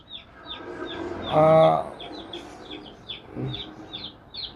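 Young chickens on a poultry farm, on their second day, give a run of high, quick repeated cheeps close by, while a brief voice and some low clucking rise briefly in the middle.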